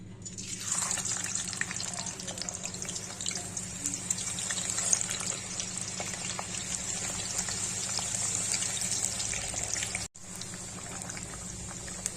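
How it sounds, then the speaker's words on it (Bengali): Cut potato French fries deep-frying in hot oil over medium heat, a dense, steady bubbling hiss that continues unbroken apart from one brief dropout. "ফ্রেঞ্চ ফ্রাইগুলোকে আমার ডুবো তেলে ভাজতে হবে"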